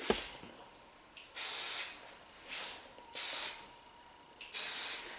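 Three sharp hissing bursts of a hair product spray bottle at close range, sprayed at the hair roots, evenly spaced, each lasting under a second, with a few softer puffs between them.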